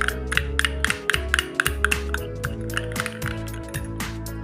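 A spoon stirs aloe vera gel skincare mixture in a small container, giving a steady rhythm of soft wet squishes and light clinks against the sides, close and clear over a low hum.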